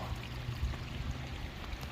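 Water trickles and pours down into a rural hillside fish pond, a steady low rushing stream heard close and alone at moderate level.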